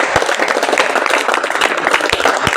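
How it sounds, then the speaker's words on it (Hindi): Students in a classroom applaud after a surface-tension experiment, dense overlapping hand clapping with a few louder individual claps standing out, loud and close for a couple of seconds. "अरे इनके लिए ताली बजाइए"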